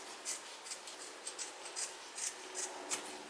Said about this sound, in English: I want to cut it about a 1/2 inch long, because I'm going to fold it over 1/2 inch